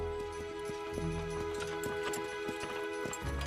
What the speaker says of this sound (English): The great shire horses of Old England cleared the land, plowed the fields, and hauled their produce to market